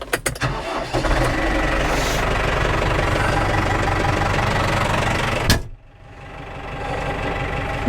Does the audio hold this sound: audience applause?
no